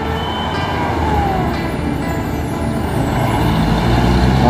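Truck driving off a ferry at a port, a loud, steady engine rumble nearby with a rising whine and a faint hiss, slowly growing louder, no talking.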